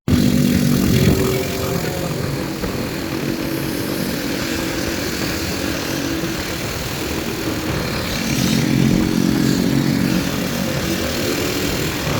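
Motorcycle engines drone loudly and steadily during a night ride, the revs swelling and easing with a burst near the start and another surge later on, and no one speaking.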